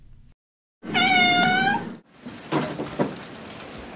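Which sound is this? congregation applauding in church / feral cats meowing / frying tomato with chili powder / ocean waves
feral cats meowing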